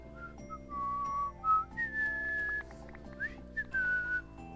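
A whistle in the Minecraft-style ScicenturySMP game, used to call a wife, plays a series of clear, pure whistled tones gliding between pitches over a soft backing of music, with no talking.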